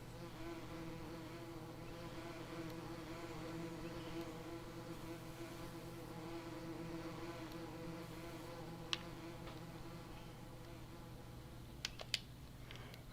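Bees in Farming Simulator 19 drone with a continuous, steady, close buzz around beehives. A few sharp clicks cut in near the end.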